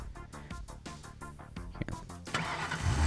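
Cars driving across a bridge in the video game Bridge Constructor, with a steady, pulsing engine drone whose pitch swells and dips repeatedly before it builds into louder, rougher revving at the end.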